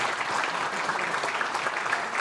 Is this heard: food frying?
no